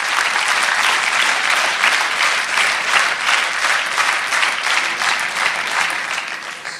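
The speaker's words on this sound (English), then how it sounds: "So give him a big round of applause for that." A seminar audience claps steadily for a guest speaker, a dense even wash of many hands that holds for several seconds, then begins to taper off near the end.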